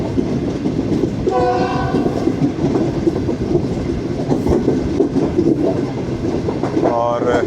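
Shalimar Express train pulling toward Gojra railway station in Pakistan, loud rolling rumble and clatter of the passing cars, with several blasts of a two-tone horn sounding over the noise.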